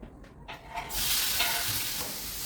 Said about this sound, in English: Then I'm gonna fry the salmon, and I'm using the olive oil for this.